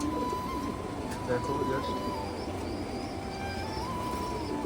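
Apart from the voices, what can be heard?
pigeons cooing at a pigeon farm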